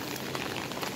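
Heavy rain in Qatar falling in a dense, steady broadband hiss, with no gaps and no voices over the brief moment.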